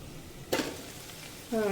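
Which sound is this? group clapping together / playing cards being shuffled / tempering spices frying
tempering spices frying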